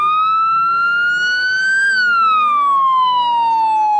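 A police car siren in the driving game MTA wails in a loud, continuous tone that rises and then slowly falls, with faint vehicle noise beneath and no talking.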